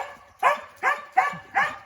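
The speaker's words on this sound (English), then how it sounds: "Dogs are on something." Dogs bark outdoors near a chicken coop: four sharp, evenly spaced barks in under two seconds, close and clear against a quiet background.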